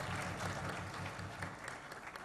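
Sustained applause from an audience welcoming a guest at a Make in India conclave, a dense, even wash of clapping that carries on throughout without talk.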